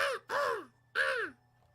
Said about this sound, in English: There's some more bird noises for you.